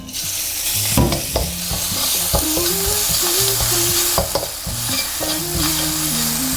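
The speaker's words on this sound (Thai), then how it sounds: "ตอนนี้น้ำมันก็ร้อนแล้วนะครับ เราก็จะพริกกระเทียมเนี่ยลงไปผัดนะครับ" Chili and garlic stir-fry in hot oil in a wok, giving a loud, continuous sizzle up close, broken by repeated scraping and clanking strokes of the stirring spatula.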